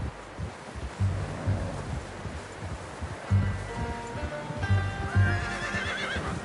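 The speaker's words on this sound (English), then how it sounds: "How's that new horse?" In the video game Red Dead Redemption 2, a horse whinnies and snorts several times amid hoofbeats and rustling outdoor ambience, with faint music rising partway through.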